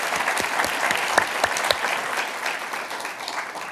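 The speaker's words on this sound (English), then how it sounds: "So please warm applause for them." An audience at an entrepreneurship seminar in Ontario gives warm applause; sustained clapping with a few sharper individual claps standing out, fairly close and continuous without talk.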